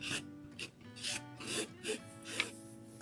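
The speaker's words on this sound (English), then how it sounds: "use this scraper to get it down in the mesh" A scraper pushes paint through mesh on a craft sign, a series of soft, close, rhythmic rasping strokes about twice a second, fairly quiet with no voices.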